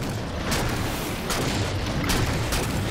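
A frag grenade going off in Halo 4 combat, heavy booms and bursts repeating over a dense battlefield din with no speech.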